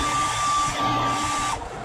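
A heat gun heat-sets paint on a fishing bait being painted in a rainbow trout pattern. It gives a steady, close blowing hiss with a thin whine that runs unbroken for most of the clip, then cuts off near the end.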